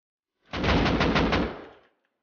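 Machine gun fire in the survival game Rust, one short burst of rapid rounds lasting about a second and a half, loud and close, with no talk.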